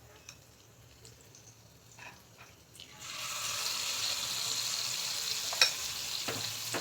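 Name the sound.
malpua batter frying in hot pan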